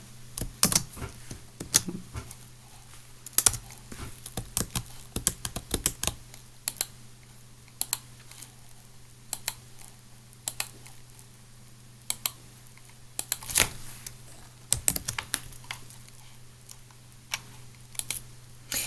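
Keys clack on a computer keyboard in irregular bursts of close, crisp strokes separated by quiet pauses over a low steady hum, with no voices.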